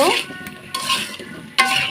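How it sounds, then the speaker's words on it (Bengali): Potatoes and papaya frying in oil in a pan for a goose meat curry, with a steady close sizzle broken by several sharp scrapes and clatters of a utensil stirring against the pan. "এখন ভালো করে ভেজে নিচ্ছি তেলের সঙ্গে আলু পেঁপে দিয়ে রান্না করব"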